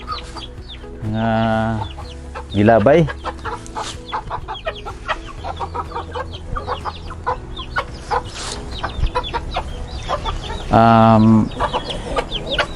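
Backyard chickens in a home urban garden cluck in short bursts at close range, with a few louder calls, while someone talks over them in a steady voice.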